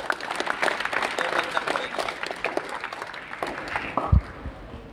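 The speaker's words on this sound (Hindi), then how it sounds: "सारे बच्चे जोरदार तालियों के साथ साथ" Children at a school traffic rules program at Samrat Inter College clap loudly together, a dense crowd applause running steadily throughout, with some voices mixed in and a sharp thump near the end.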